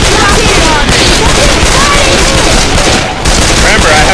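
Loud, continuous video-game gunfire fills the scene with dense, overlapping shots, while a shotgun is among the weapons in use and battle noise stays steady throughout, dipping only briefly.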